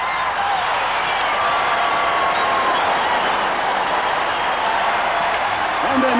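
A big stadium crowd at a mile race roars in a sustained, dense wall of cheering and clapping, loud and unbroken, with a faint rise toward the end.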